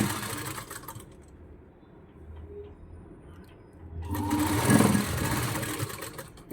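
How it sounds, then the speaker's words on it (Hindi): A sewing machine runs a straight stitch through stretched elastic on a kaftan, starting quietly and then whirring loudly and steadily in the second half, with no talking. "अब इलास्टिक को खींचते जाएंगे और सिलाई चलाते जाएंगे"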